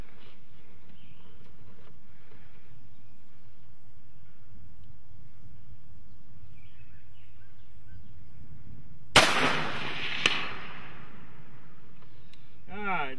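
A single sharp crack from a 6.5 Grendel rifle firing at long range splits an otherwise quiet outdoor scene, trailing into a short decay with a faint second report about a second later.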